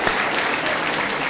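Dense, steady applause from a lecture audience at Franciscan University of Steubenville, loud and continuous throughout without a break.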